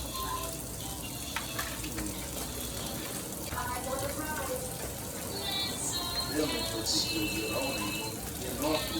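Water runs and splashes into a pot while Southern dressing cooks with butter, a near, gurgling pour with bubbling and light clinks, continuing alongside brief speech.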